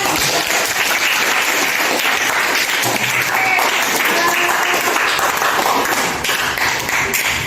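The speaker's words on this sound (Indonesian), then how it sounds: "Kita kasih tepuk tangan." Students in a classroom clap together, a loud, close, continuous burst of applause that stays full for several seconds, with some voices mixed into the clapping.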